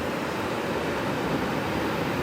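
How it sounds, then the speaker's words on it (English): Small ocean waves wash in at Torrey Pines beach at dawn, a steady, dense broadband rush of surf without breaks or voices. "The waves are coming into clear view now."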